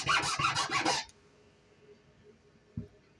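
Rasping file strokes on an acorn cap being shaped into a tiny bowl, about four quick close scrapes in a rhythmic burst lasting a second, then near silence with a faint knock.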